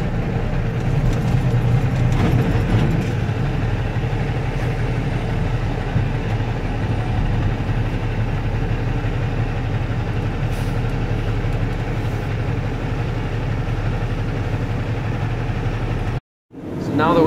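A loaded corn truck sits idling on the inbound scale at an ethanol plant, its engine a steady low rumble that runs unbroken for most of the stretch before cutting briefly near the end.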